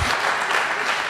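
An audience applauds at a maths talk, a brief burst of close, even clapping with no speech on top.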